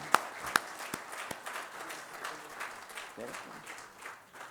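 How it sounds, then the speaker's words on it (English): An audience at an anniversary gathering claps, with a few sharp claps at first and then a thinner patter of applause, while a voice talks over it. "A big round of applause for all of them."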